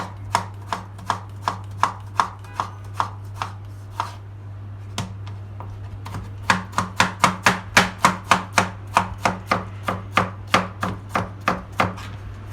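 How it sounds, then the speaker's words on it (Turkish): Rapid, even knife taps on a cutting board as garlic is chopped, close and crisp, in bursts of steady chopping with a low hum underneath. "İki adet sarımsağımızı doğrayıp malzememize ekledik."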